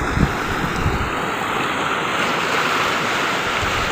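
Floodwater rushes past in a steady, loud, broad roar that stays continuous and close throughout, with gusty wind noise over the microphone and no voices.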